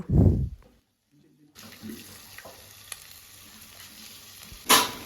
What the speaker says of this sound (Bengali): ছোট চামচের এক চামচ সাদা তেল আর একটা ডিম ফাটিয়ে তেলের মধ্যে দেব